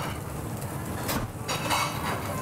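Capers, chili and anchovies stirred in a pan of hot olive oil: a soft, continuous sizzle with light scraping and occasional clinks of the utensil against the pan.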